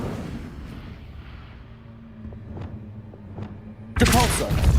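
A fire spell is cast in the Hogwarts Legacy video game: a sudden loud, bright burst near the end cuts through a quiet, low rumbling game background.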